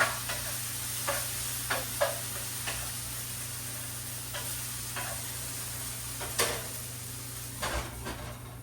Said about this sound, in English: Check out my chicken, which is sizzling.